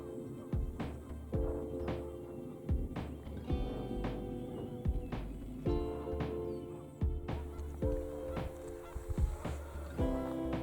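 Canada geese honk repeatedly in overlapping bursts from fields across a reservoir, a busy, rhythmic chorus at moderate distance with no voices.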